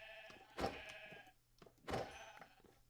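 Sheep in the Minecraft survival world bleat twice, at the start and near the two-second mark, each call clear and close with soft game ambience between.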